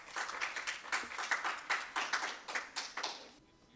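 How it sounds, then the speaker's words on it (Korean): Applause from an audience at a 2021 Jeju Forum session on inclusive development cooperation, a steady patter of many hands clapping at moderate distance that fades out near the end. "큰 박수 부탁드립니다."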